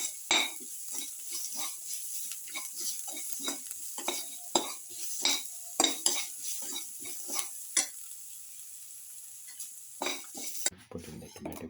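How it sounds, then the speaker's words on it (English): A utensil repeatedly scrapes and stirs salted food sautéing in a pan for a cumin, egg and bean rice casserole, with an irregular clatter over a faint steady sizzle and no speech. "Thoroughly saute mix."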